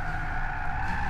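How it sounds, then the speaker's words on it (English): Car tires squeal steadily as the car understeers through a corner in the Gran Turismo 6 racing game, a continuous high screech held at constant loudness over a low engine rumble for about a second. "Understeer. Tire squealing."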